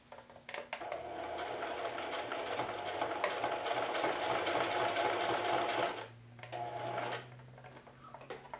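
A sewing machine runs a zigzag bar tack, stitching in a rapid, steady mechanical chatter for several seconds, stopping, then giving a shorter burst afterward, close and fairly loud.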